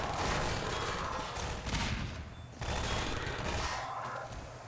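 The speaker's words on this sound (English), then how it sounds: "The turret just kind of melts them" Automated turret gunfire in Half-Life 2, rapid sustained bursts that roar loud and dense, break off briefly midway, then resume and gradually thin out.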